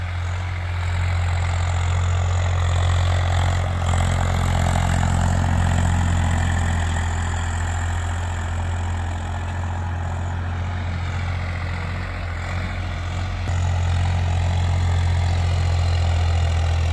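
Swaraj 855 FE tractor engine running steadily at about 1600 rpm while pulling a cultivator, a loud, constant low drone with a slight dip in level partway through.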